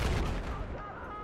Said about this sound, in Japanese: 誰かずっと撃ってるやつがいる